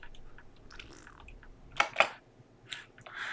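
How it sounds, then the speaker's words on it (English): Someone slurps coffee while tasting it, giving two short, wet, airy slurps close to the mic, then a few softer sips and mouth sounds in a quiet room. "I don't know how I feel about that tasting sound."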